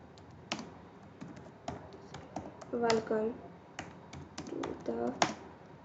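Fingers tap out short bursts of keystrokes on a computer keyboard, quiet and close, with someone speaking briefly over the typing.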